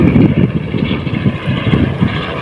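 A loud, rumbling helicopter engine with rhythmic rotor pulsing, close and dominant throughout the short stretch, heard from a seashore.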